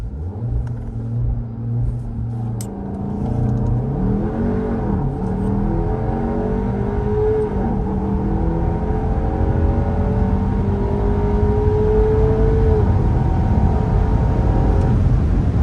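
A game car revs hard under launch control with boost, its engine note rising in a loud, continuous climb through several gears over a steady rumble, with no talking.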